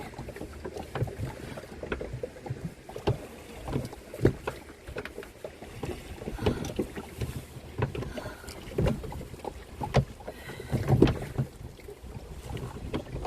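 A canoe paddled alone back toward shore against wind and current, with repeated uneven paddle strokes and water splashes close to the microphone, plus wind buffeting across the recording.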